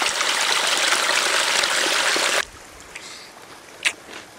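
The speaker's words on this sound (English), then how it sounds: "Finally, the water is flowing again." A canyon stream flows in a loud, hissing rush for a couple of seconds, then cuts to a much quieter stretch with faint scattered trickles and a brief knock.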